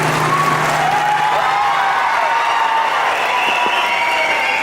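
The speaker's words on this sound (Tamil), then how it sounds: "ஒரு நல்ல பலத்த கரகோஷத்தை வந்து நம்ம கண்டிப்பாக காணிக்கையாக்கணும் பலத்த கரகோஷம்" A large seated audience at a franchise-owner event applauds loudly and continuously, dense clapping with a few scattered cheers throughout.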